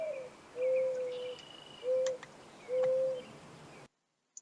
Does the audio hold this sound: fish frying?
no